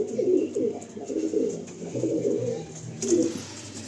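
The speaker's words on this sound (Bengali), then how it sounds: "হাতেই মস্তি করছে পায়রাগুলো।" Several Andhra high-flying pigeons coo in low, rolling phrases close by, the soft calls repeating steadily throughout with no talking.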